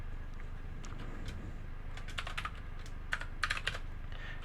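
Typing on a computer keyboard, a run of light, irregular key clicks with a few louder taps near the end, close and alone over a steady background hum.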